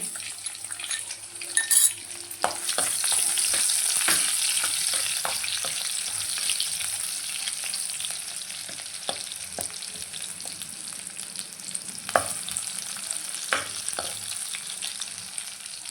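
Chopped onions fry in a pan for a spinach and onion chutney, sizzling continuously and fairly loud, with scattered clinks and scrapes of a spoon stirring against the pan.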